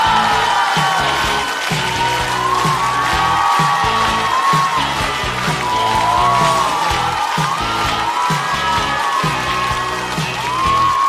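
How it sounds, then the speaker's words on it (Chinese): A large studio audience at a Chinese stand-up comedy show claps and cheers to welcome comedian Meng Chuan, with sustained loud applause, whoops and shouts running continuously throughout. "掌声欢迎孟川"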